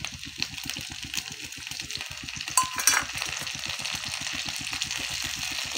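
Ginger garlic paste sizzles in a hot pan for an egg curry, with a steady fry hiss under a quick, even rhythm of spatula stirring strokes that stays close and continuous.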